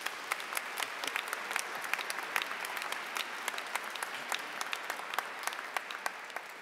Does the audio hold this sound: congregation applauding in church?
yes